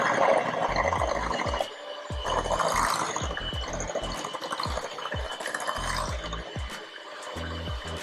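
Quiche egg mixture is whisked in a bowl, giving rapid rhythmic clicking and tapping strokes with a short break partway through.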